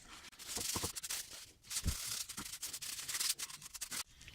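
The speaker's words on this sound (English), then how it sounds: "you can actually go clean that little boot around that area using a soft paper towel and get it all nice and clean" A soft paper towel rubs over a brake caliper boot on a Honda, quiet, close scrubbing strokes in an uneven rhythm.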